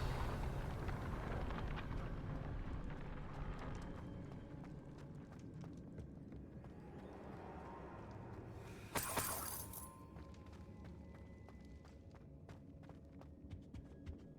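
The Confringo blasting spell in Hogwarts Legacy smashes objects, with one loud shattering burst in the middle of the clip and lighter scattered clatter before and after, over quiet ambient game sound.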